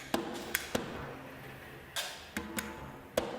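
Sparse, crisp virtual percussion hits with sharp clicks and knocks at uneven intervals, fairly quiet, with a soft tonal bed underneath, from a video game soundtrack.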